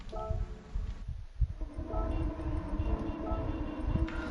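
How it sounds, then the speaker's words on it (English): Car horns honk at a race start in Gran Turismo 7 at Willow Springs, sustained blaring tones layered over a rumbling engine bed, several horns overlapping and fading in and out. "A lot of honking going on"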